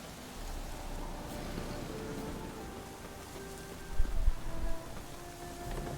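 Steady rain falls in the open world of the video game Witcher 3, a soft, even hiss with a brief low rumble partway through.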